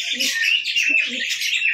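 Dense, continuous chirping from many birds fills the air nearby, with soft low pigeon coos now and then underneath, at a pigeon sale of Giribaz, Madras and fancy breeds including a black male.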